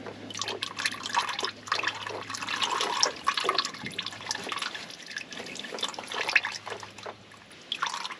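Oil drips and trickles steadily in a busy, splashy stream in a workshop, with a faint low hum running underneath; no one speaks.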